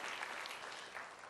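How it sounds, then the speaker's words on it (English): Audience applause at a Hallmark corporate event, a steady dense wash of clapping throughout, fairly even in level and without voices. "how about a nice round of applause to the nice folks at Hallmark for putting this together?"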